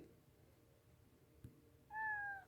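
A cat gives one short, clear meow near the end after a quiet stretch, close and alone.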